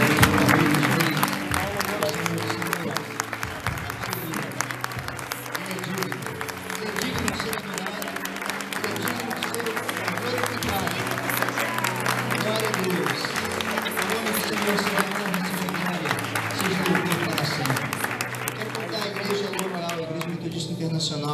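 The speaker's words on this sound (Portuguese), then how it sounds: "Será que você pode dar o seu melhor aplauso?" Sustained audience applause and clapping from a congregation at a Wesleyan church service in Joinville, a dense steady roar lasting the whole stretch with crowd noise mixed in.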